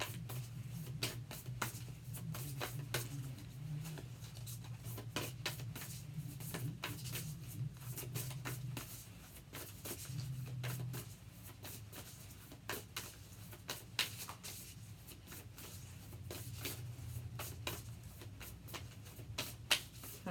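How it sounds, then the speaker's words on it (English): Tarot cards are shuffled in a steady stream of soft, papery riffles and flutters that continue throughout. A low hum runs underneath, with no talking. "Alright, they got 5 more shuffles out of me."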